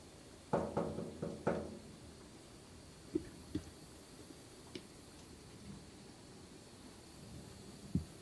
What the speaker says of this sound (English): Sally, can you knock on this pipe?